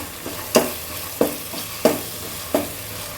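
Onions, mint and ginger-garlic paste sauté for chicken biryani, with a constant sizzle under four evenly spaced scraping stirs of the spoon against the pan.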